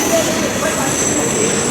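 A train rumbles at Vasai railway station with a steady, loud, broadband roar and faint high squeals, and a busy platform hum beneath it.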